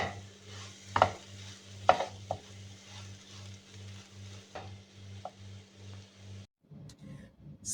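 Cooked sweet potato pieces are stirred in a pan for a Kerala-style dish, with a quiet sizzle under a low humming drone. Sharp spoon taps and scrapes land every second or so, and everything cuts out abruptly near the end.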